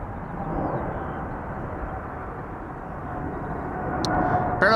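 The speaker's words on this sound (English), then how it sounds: "Also 777 that just now took off from center" Boeing 777 airliner taking off from the center runway at Amsterdam Schiphol on a sunny day, a steady broad engine roar that holds at a distance and swells slightly near the end.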